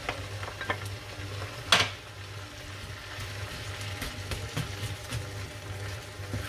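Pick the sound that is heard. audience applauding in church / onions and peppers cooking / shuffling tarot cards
onions and peppers cooking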